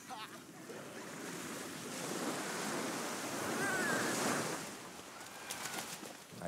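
Ocean surf washes steadily along a shore, a broad wind-blown roar that swells in the middle and eases toward the end, with no talk over it.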